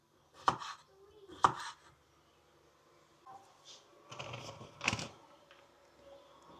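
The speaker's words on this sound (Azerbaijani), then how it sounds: "Eyni şəkildə kökləri də doğrayıram." A knife chops carrots for Uzbek plov, with two sharp isolated board strikes followed by a busier cluster of cuts and clatter, faint and close, with some quiet speech in between.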